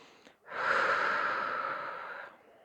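One long, deep exhalation during childbirth preparation, a close, soft but full breath lasting about two seconds after a brief intake, alone in a quiet room.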